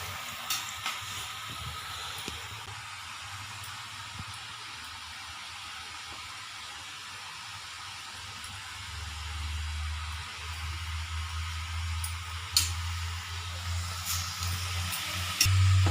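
Ghee murukku dough frying in hot oil for a Krishna Jayanthi festival snack, with a steady close sizzle and hiss that grows a little louder in the second half, broken by a few brief crackles.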